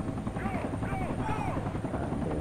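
A helicopter in the video game Battlefield 2: Project Reality, set in Muttra City, fills the clip with a loud, steady rotor roar and a whirring drone.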